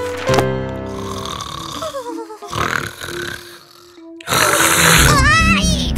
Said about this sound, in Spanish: Ha sido tan solo un ronquido.